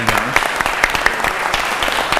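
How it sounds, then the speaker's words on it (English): An audience claps loudly at a community center's anniversary celebration. The applause is dense and sustained, with many overlapping hand claps throughout and no one speaking. "they deserve a huge round of applause"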